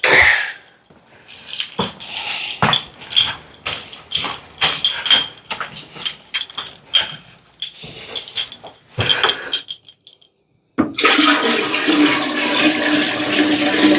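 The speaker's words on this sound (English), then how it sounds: "So I'm just gonna dump this in the toilet." A toilet flushes with a loud rushing surge of water near the end, after waste is dumped into the toilet in an apartment; clanks, splashes and handling noises come first, with no talk.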